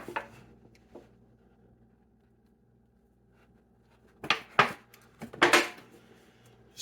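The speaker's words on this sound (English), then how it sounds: "Just place them in a pan like that." Onions set down in a pan for smoking, giving a few clattering knocks and scrapes of metal cookware, close and distinct, clustered near the end after quiet.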